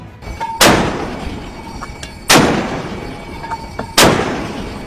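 A warship's Mark 45 5-inch naval cannon fires three loud, sharp blasts spaced well apart. Each is a booming crack with a rumbling decay.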